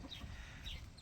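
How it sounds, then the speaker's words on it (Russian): Hens clucking around a farmyard that also keeps geese and swans, low continuous clucks and murmurs from several birds close by, with no talking. "У меня еще есть курочки такие,"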